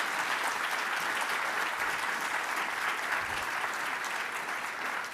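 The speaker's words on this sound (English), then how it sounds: "How about a round of applause for our first session?" Sustained audience applause after the opening session of a symposium on General Patton, a dense steady wash of many hands clapping at even volume throughout, no voices over it.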